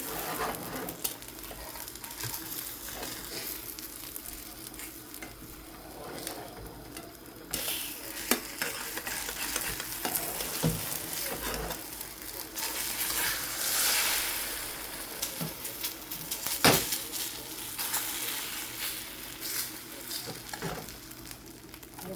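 An egg pancake fries in a pan on a gas stove with a soft, steady sizzle, joined by occasional stirring and utensil clinks and scraping, fairly quiet throughout.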